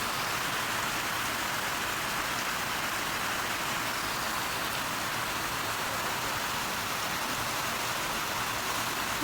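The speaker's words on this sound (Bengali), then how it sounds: "খুব সুন্দর বৃষ্টি হচ্ছে।" Steady rain pours down behind a residential building on an afternoon, a dense, even hiss that stays constant and fairly soft throughout, with no voices over it.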